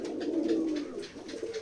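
Pigeons coo on a pigeon farm in Beteekhola village, Keshabpur, Jessore, a soft continuous throaty warble with overlapping calls from several birds nearby, no speech.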